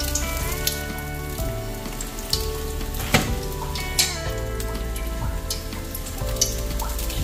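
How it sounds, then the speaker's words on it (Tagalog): Fish frying in hot oil, a loud continuous sizzle and crackle with occasional sharper pops, close up and steady throughout. "Prito-prito muna tayo ngayon."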